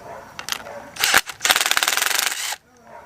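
A 14mm impact wrench spins a stud off a 2020-21 Honda Civic Type R hub, with short bursts and then a rapid hammering rattle of over a second at close range, and a voice talks briefly before it.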